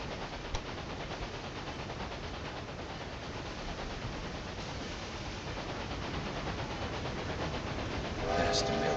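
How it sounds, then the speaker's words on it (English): Mail train running in the railway management game Railway Empire 2, a steady dense rumble of rolling wagons sustained throughout, with a brief whistle-like tone near the end. "There's the mail train."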